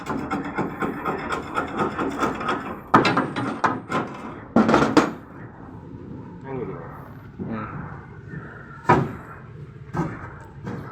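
A hammer knocks on the bed of a pickup truck during repair work on the cargo bed. A few sharp, scattered bangs cut through steady workshop noise while people talk nearby.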